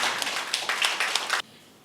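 An audience applauds a young football team at a political gathering, a short burst of close, steady clapping that stops abruptly.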